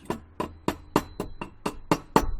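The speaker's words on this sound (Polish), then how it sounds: "Wezmę młotek i obiję, zobaczymy co jest szlaką, a co jest padem" A hammer chips slag off a fresh weld on steel grill stands: about eight sharp, evenly spaced metallic knocks, close and loud, with no talking.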